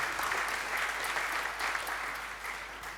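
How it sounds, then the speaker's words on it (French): A church congregation at a prophet's sermon breaks into sustained, even applause with scattered cheers, loud and continuous throughout. "Est-ce qu'on peut acclamer le Seigneur pour Emmanuel?"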